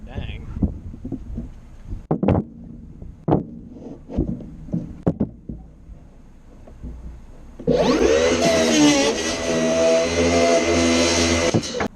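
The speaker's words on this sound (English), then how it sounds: "For a cordless skill saw, I've never had a corded skill saw that cuts like that." A cordless skill saw rips through wood with a sudden loud, sustained whine in the last few seconds, preceded by scattered knocks and handling of lumber while building a workbench for a Ford Ranger bed.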